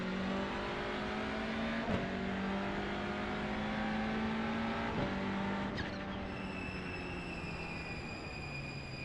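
TCR touring race car launching from a standing start in the iRacing simulator, its engine roaring steadily and climbing in pitch through quick gear changes, loud and close throughout with no talking.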